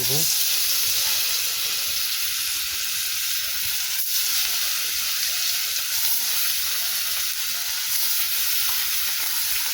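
Fish sizzling in hot oil in a pan for a village-style fish curry with potato and eggplant, a steady close hiss and crackle running throughout with a brief sharper spatter midway.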